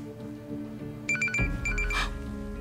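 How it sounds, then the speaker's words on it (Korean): A telephone rings with quick, high electronic trills in short repeated bursts, fairly close, over a steady low background hum and some other indoor noise. "전화가 계속 울려서요"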